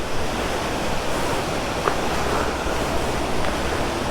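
A waterfall along a road in the Baguio area, heard as a steady broadband rush of falling water with no speech.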